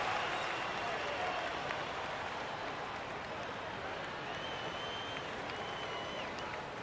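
A large basketball arena crowd at a 76ers versus Cavaliers NBA game keeps up a steady wash of applause and crowd noise, distant and even throughout.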